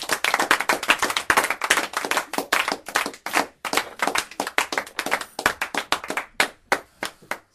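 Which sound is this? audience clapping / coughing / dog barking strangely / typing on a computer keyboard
audience clapping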